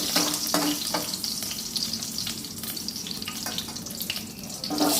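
Fennel, cinnamon, cardamom and curry leaves fry in hot oil, giving a continuous close hiss and crackle with occasional faint clinks of stirring.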